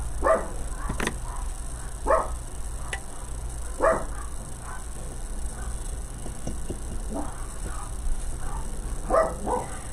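A mother dog with puppies barks in short bursts, roughly every one to two seconds, at moderate distance over a constant low hum.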